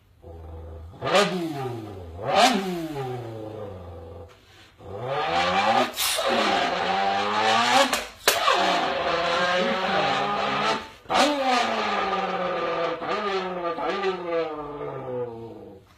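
A boy mimics a Mustang and a Lamborghini with his mouth, making a string of rising and falling engine revs, gear-change swoops and screeches, loud and close, with short pauses between bursts.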